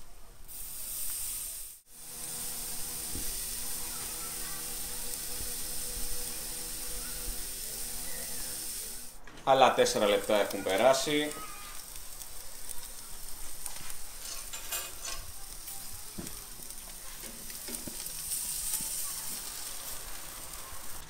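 A 1.3 kg tomahawk steak sizzles on a charcoal grill with a steady hissing crackle, and a louder burst of sizzling midway as the meat is turned. Someone speaks briefly over the sound.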